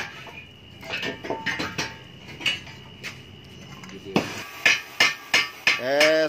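Metal hammer blows drive a baffle into a Yamaha Lexi exhaust muffler in a workshop, a run of sharp clanging strikes, scattered at first and then a quick, louder series of ringing hits near the end.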